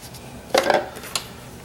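A fork clinks and scrapes against a dish while stirring garlic into fish food, a short burst of two quick metallic taps followed by a single fainter clink, close and alone.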